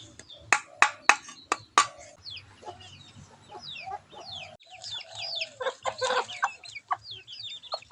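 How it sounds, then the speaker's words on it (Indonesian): Outdoor chickens cluck and squawk close by while fish is being cleaned, starting with a rapid series of sharp loud calls, then continuing with softer irregular clucking and chirping. "ini pas aku siang ikan, ayam-ayam tuh pada nongol, pada merapet"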